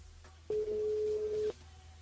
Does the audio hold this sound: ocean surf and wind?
no